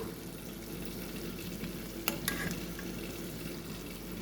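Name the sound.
stirring fried chicken with curry leaves in a pan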